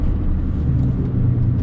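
Steady, loud engine rumble from a car being heel-toe downshifted from fourth to second gear, a continuous low drone with no clear rev spikes, heard alone without talk.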